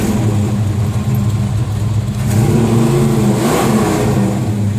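A 1969 Dodge Charger V8, with some debris in the carburetor, idling with a deep, loud rumble close by, then revving up partway through and holding the higher pitch.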